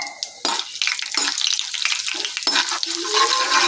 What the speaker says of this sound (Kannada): ಕಡಲೆ ಬೇಳೆ ಹಾಕ್ಕೊತಾ ಇದ್ದೀನಿ ಟೊಮೆಟೊ ಕಡಲೆಬೇಳೆ ಬ್ರೌನ್ ಕಲರ್ ಬರಬೇಕು